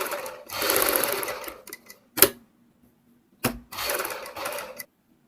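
A sewing machine stitches over an existing seam on a kurti's boat neck with double piping, running in two bursts of fast rattling with a few short clicks and a pause between.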